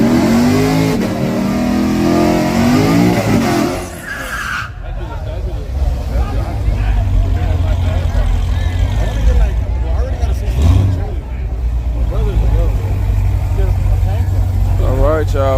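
Dodge Hellcat Redeye and Corvette at a street race, engines idling and revving with a loud deep rumble throughout, a crowd chattering and voices talking over the exhaust noise.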